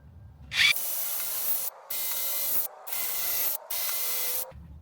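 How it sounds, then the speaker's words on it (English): A power drill bores mounting-screw holes through a boat hull's gel coat in three or four bursts of high, whining drilling separated by short silences, close and fairly loud, with no talking. "then you're gonna go ahead and drill your holes for your 4 mounting screws"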